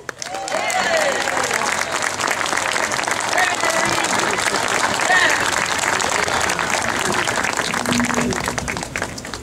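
Audience applause for a speaker introduced at a veterans' gathering over the Jolicoeur Monument, a steady dense wash of clapping and crowd noise lasting throughout, with voices mixed in beneath.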